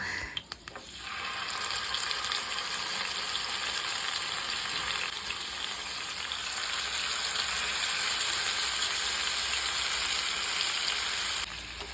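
Masala-coated small paral fish fry in hot oil in a pan, a steady, dense sizzle running close and loud for the whole stretch with a brief clatter at the start and no talking.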